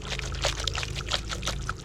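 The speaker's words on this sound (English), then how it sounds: "Put a bit of the pasta water in there, make it nice and saucy." Pasta water pours into a pan of squid ink pasta sauce, a close, continuous splashing trickle with small bubbling bursts over a low hum.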